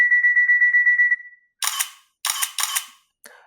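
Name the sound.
ASUS ZenFone 2 camera taking three selfie shots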